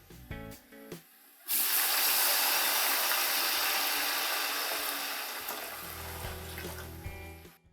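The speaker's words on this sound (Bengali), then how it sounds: "পেঁয়াজগুলো যখন এরকম গোল্ডেন ব্রাউন হয়ে আসবে তখন জল দিয়ে দেবেন এতে।" Water poured into a pan of golden brown onions fried over a high gas flame, a loud steady rush and hiss that runs for several seconds after a few brief clatters, then tapers off.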